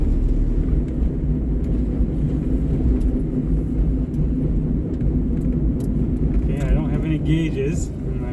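A K24-swapped Honda Insight pulls away in third gear, its engine a close, steady low rumble that holds throughout, with faint rattles near the end.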